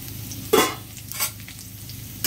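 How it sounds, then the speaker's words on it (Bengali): Potatoes fry in a pan with a soft continuous sizzle, broken by a few sharp scraping stirs of a spatula. "হ্যাঁ, আলুগুলো ভাজা হয়ে গেছে"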